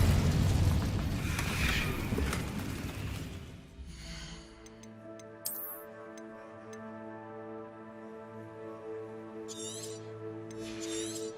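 An Incendio fire spell in Hogwarts Legacy erupts as a loud, roaring burst of flame for several seconds, then dies away into soft sustained chiming tones and light ticking.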